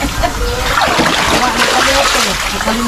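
Children splashing and sloshing in water outdoors with no swimming pool, loud and continuous close splatter with voices talking over it throughout.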